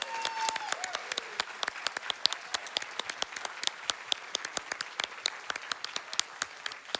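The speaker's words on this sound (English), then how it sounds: "One more round of applause for these guys." A live speedrunning event crowd at AGDQ 2020 applauds after a Ninja Gaiden II race, with many sharp, distinct claps in a sparse, crisp pattern that sounds fairly quiet and somewhat distant.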